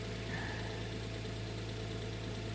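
Jeep Gladiator engine running at a low, steady idle-like hum with light throttle while pulling a stuck Subaru, a continuous mid-low drone with no talking.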